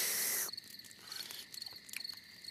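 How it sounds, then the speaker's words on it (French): Crickets chirp at night in the Peppa Pig cartoon, a steady high pulsing trill in soft repeated bursts after a brief brighter sound at the start, with no talking. "Ce que tu entends, ce sont les criquets qui chantent."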